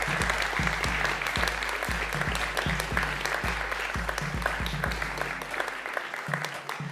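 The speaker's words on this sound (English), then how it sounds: "we'd like to just give them a round of applause in their absence anyway" Audience at a conference clapping for an absent delegation from Portugal, a fairly near, steady round of applause that carries on for several seconds before thinning out at the end.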